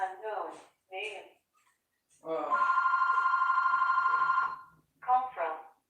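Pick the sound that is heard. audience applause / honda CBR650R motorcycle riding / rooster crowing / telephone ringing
telephone ringing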